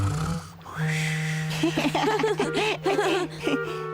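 Cartoon father character snoring at the seashore, with a low droning hum beneath a run of wheezy, chortling snore bursts in the second half.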